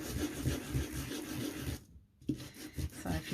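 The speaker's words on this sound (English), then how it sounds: "just taking away, sanding away the alcohol ink" A distress sanding disk rubs across alcohol ink paper in steady rasping strokes, with a brief pause midway before the scratchy sanding resumes, close and moderately loud with no talking.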